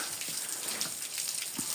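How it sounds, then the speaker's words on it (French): Heavy rain falls steadily outdoors on the Camino de Santiago, a continuous hissing wash with scattered louder drops landing on nearby surfaces. "Il pleut de ouf."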